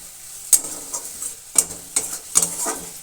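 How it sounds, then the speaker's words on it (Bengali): Onion frying with cumin, coriander and chilli powder in a pan, a steady close sizzle broken by several sharp scrapes and clatters of a spoon stirring against the pan. "এবার এটা একটু ভালো করে কষিয়ে নেব।"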